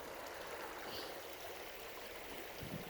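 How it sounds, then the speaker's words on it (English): Water in a stream runs in a soft, constant rush, faint and even throughout, with no voices. "That water looks like it's coming through pretty good."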